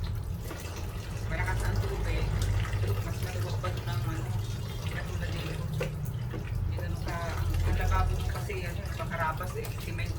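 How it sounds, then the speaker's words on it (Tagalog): Strong water gushes from a tap onto a cement surface, a steady loud splashing flow close by, with voices talking over it in places. "Malakas ang tubig."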